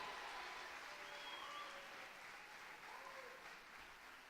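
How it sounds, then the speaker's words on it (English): An audience at a student athletics awards ceremony applauds with even, sustained clapping that sounds soft and somewhat distant. "Let's give a big round of applause for our unsung heroes."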